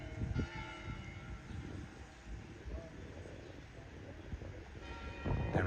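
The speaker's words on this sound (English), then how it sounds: "There's some bell going. It's 7 o'clock." A town bell in Castelo de Vide rings the evening hour, a faint, steady tolling heard at a distance over outdoor ambience with light wind on the microphone.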